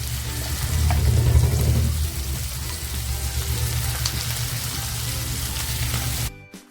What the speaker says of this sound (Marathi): काजू जे घेतले होते ना ते काजू टाकते